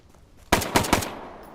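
Three sharp gunshots ring out in quick succession, loud and close, signalling the start of a Bellum TWS Monday training exercise, then fade into a short echoing tail.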